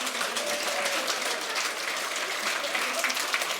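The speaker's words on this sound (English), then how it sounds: "And now, start clapping." Conference audience clapping together in a steady, dense wash that holds at an even level throughout, with faint voices mixed in underneath.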